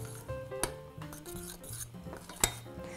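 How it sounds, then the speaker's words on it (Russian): A spoon scrapes and clinks around inside a pot of boiling oatmeal, with two sharp metallic knocks against the rim over a faint bubbling background. "Овсянка кипит. Я немножко помешаю."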